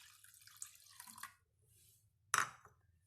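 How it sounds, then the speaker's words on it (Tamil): Water poured from a cup into a pot of rasam, a faint splashing trickle followed by a sharp louder splash and a few soft drips, quiet and close. "அதோட கூட 1 கப் அளவு தண்ணி சேர்த்துக்கிறேன்."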